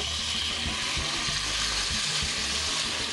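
Chicken pieces coated in ginger-garlic paste and lime juice sizzle and fry steadily in a hot pan, a loud, continuous crackling hiss with no voices over it.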